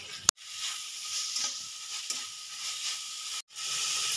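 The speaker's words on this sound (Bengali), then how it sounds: "চিকেনটা ভালো করে আমি 4 থেকে 5 মিনিট ধরে কষিয়ে নেব" Chicken mince sizzles while being sautéed in a pan, a steady close hiss of frying with occasional soft stirring scrapes and two sharp clicks, fairly quiet and with no voices.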